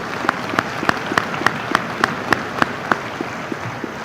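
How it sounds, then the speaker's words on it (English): Graduation audience applause at a high school commencement, a steady wash of many hands clapping with a few louder individual claps popping out at a regular pulse, moderately loud and heard alone. "that one might get a round of applause"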